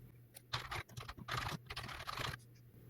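Computer keyboard typing while R code is entered, heard as steady bursts of key clicks across most of the span with a low constant hum underneath; no speech.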